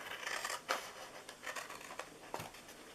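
Scissors snip through paper pieces for a Christmas hot chocolate treat box, several short crisp cuts in an irregular rhythm, close and fairly quiet, with no talking.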